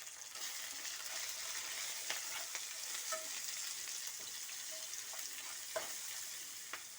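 Onions, green chillies and curry leaves fry in hot oil, making a soft, even hiss with faint occasional pops that keeps going at a steady low level.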